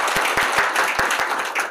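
An audience at a debate forum applauds, producing a close, dense patter of hand claps with a few sharper individual claps standing out, lasting under two seconds.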